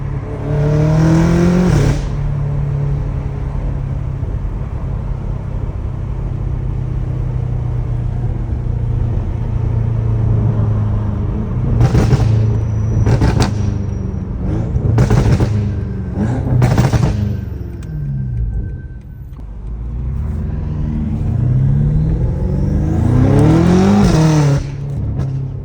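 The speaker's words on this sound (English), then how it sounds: "I think the turbo is just helping making that noise." A straight-piped BMW M5 runs with a steady loud exhaust drone broken by several sharp shift cracks and pops, with turbo whoosh during pulls and a final rev swell near the end.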